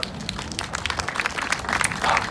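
An audience at a March for Science launch event in Stockholm claps steadily throughout, a dense ongoing applause that grows slightly louder toward the end.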